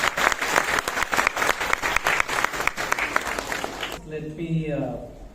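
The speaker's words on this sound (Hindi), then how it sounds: "आप लोगों से ताली बजाकर उनका वेलकम करें" Dense, steady applause from a large crowd at an Ambedkar birthday gathering, welcoming a guest and running for about four seconds before it cuts to a single voice speaking.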